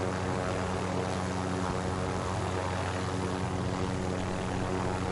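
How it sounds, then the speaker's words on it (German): A helicopter in the video game Call of Duty: Warzone gives off a steady, loud rotor and engine drone that stays constant throughout, with no talking. "Ja, Helikopter."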